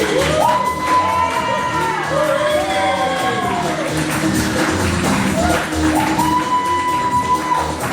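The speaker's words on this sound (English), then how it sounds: "Keep the applause going for the blue team!" A comedy improv show audience at a ComedySportz rec league game cheers and whoops loudly, with shouting voices rising over a continuous crowd roar.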